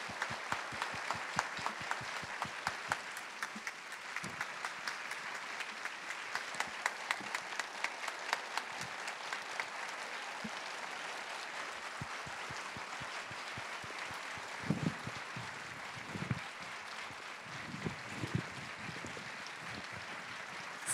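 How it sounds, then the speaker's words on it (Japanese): A theater audience at a film stage greeting for Wim Wenders' PERFECT DAYS claps steadily in welcome, a long even round of applause with sharper individual claps standing out near the end. "Please welcome them with a round of applause."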